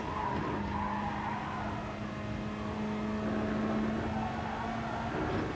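A race car in Gran Turismo Sport understeers through a corner, its tyres skidding and scrubbing with a sustained squeal over a continuous engine drone.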